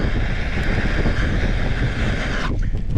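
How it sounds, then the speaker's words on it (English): Strong north wind gusting across an open farm field on a small 40-acre piece, a steady loud broadband rush buffeting the microphone throughout, easing briefly near the end. "There's a strong north wind"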